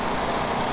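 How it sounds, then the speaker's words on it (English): Loud portable generator running at a campsite, a steady, close engine drone with no variation over a very brief moment and no talking. "So one thing about my generator, guys, as you can see right there, it's pretty loud."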